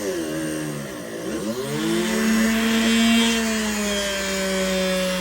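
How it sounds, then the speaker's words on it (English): An underpowered power drill bores a hole into jade, its motor whining steadily and shifting pitch as it bogs down and recovers, loud and close with no talk. "That drill was a little bit underpowered for this job"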